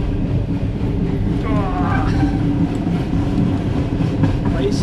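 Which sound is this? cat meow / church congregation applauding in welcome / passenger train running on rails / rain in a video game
passenger train running on rails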